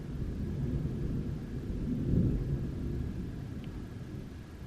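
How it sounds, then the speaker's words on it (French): Distant thunder rolling low and faint outdoors ahead of rain, a soft continuous rumble that swells slightly midway and then fades back. "on entend le tonnerre."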